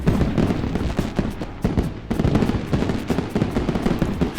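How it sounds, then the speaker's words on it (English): A stream-alert fireworks sound effect: a dense, continuous barrage of crackling bursts and pops, loud and close, running without pause and with no talk over it. "more fireworks than Disney"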